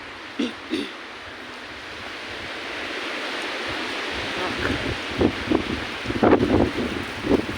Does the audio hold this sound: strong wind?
yes